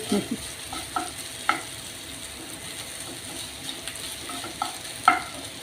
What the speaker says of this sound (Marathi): कोथिंबीर घालूया व्यवस्थित परतून घ्यायचे